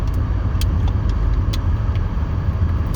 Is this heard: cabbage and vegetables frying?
no